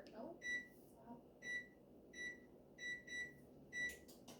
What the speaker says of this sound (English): So let's set our timer